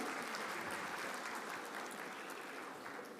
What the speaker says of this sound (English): A big applause to the BPJPH.